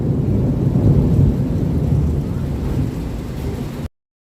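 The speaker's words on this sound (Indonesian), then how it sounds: "Dengar gak ada suara petir?" Deep thunder rumbles continuously during a rainstorm, loud and close with heavy low rolling energy mixed with rain hiss, fading and cutting off just before four seconds.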